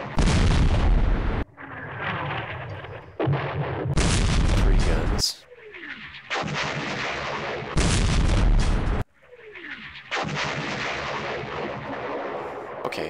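Booming artillery fire in a WWII strategy video game, several loud, heavy blasts with long decaying rumbles coming one after another across the clip, with no talk.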